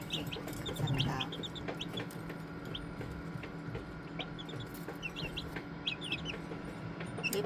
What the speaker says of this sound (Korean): 예쁜 병아리를 보고 계시죠?